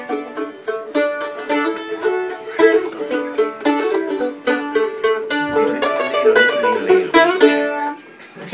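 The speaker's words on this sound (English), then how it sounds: "It's called a mandolin." A mandolin is played alone in a lively melody of bright, rapidly picked and tremolo notes, close and clear, with no voices over it.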